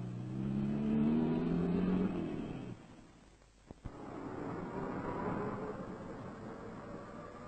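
A small minivan moving through heavy Nigerian traffic among buses, with engine rumble and tyre noise that rise and fall, a short lull, then a sharp knock before the steady drone returns, all fairly faint.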